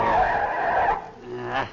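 A car with bad brakes skids to a stop, giving a loud tire screech that fades over under two seconds, with no voices over it.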